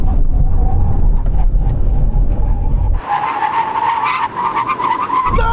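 Aston Martin cars, among them a Valkyrie, Vanquish and V12 Vantage, brake hard on a drag strip. A loud engine roar drops away into a long, high tyre squeal and skid that runs for several seconds close by.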